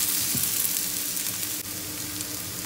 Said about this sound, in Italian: E facciamo friggere bene sia la cipolla che la melanzana insieme.